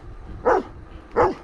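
A dog guarding a house in the hills of Alicante, Spain, gives two distinct barks about three-quarters of a second apart, moderately near, over faint outdoor background noise.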